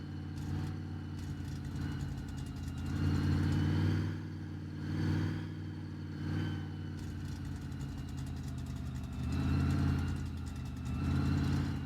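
A car engine drives along steadily in The Long Drive, a mid-pitched hum that rises and falls in gentle surges of revving, fairly faint and with no talking.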